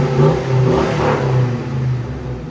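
A 2006 Hummer H2 with a 6.0L V8 and Flowchaser muffler exhaust revs steadily up close, a deep throaty rumble with rising and falling throttle pulses throughout.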